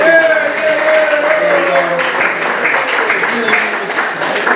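A gallery audience at an event claps steadily for a guest, a loud continuous patter of hands close by, with talking and a tonal hum running underneath.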